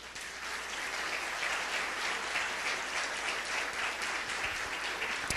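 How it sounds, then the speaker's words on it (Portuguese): A church congregation applauds steadily throughout, a dense wash of many hands clapping at an even level with no voices standing out. "Você pode aplaudir o Senhor?"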